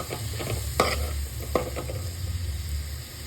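Sliced mushrooms fry in a masala gravy, giving a steady close sizzle under a low hum, with a couple of sharp spoon scrapes as they are stirred.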